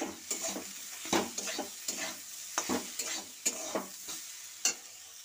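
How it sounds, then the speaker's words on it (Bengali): Yardlong beans seasoned with turmeric and salt get stirred in a pan, a soft steady sizzle broken by repeated scraping strokes of the spatula, close and fairly quiet, with no voices. "স্বাদ মতো নুন দিয়ে দিচ্ছি, দিয়ে এটাকে আমি ভালো করে নাড়বো"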